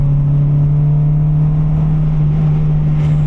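A Mitsubishi Eclipse II engine holds a loud, steady, droning note under acceleration, a constant low hum with little change in pitch heard close up from inside the car.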